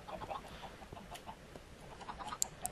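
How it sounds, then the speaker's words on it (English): Chickens clucking in the Minecraft video game: soft, faint scattered clucks over a low background, with a couple of brief sharper clicks near the end. "Let's check our chickens"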